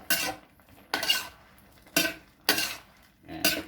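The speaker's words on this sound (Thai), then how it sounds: "ผัดไปเรื่อยๆนะครับ จนกว่าน้ำที่อยู่ในกระทะจะแห้งนะครับ" A metal spatula scrapes a wok while pork is stir-fried with curry paste and long beans, five sharp, separate scraping strokes at an uneven pace, close and fairly loud.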